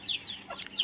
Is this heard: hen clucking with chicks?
yes